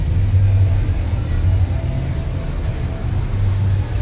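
A 2015 Jeep Cherokee Trailhawk crawls up a 35-degree hill at an off-road course, giving a low, steady engine rumble close by with no speech over it.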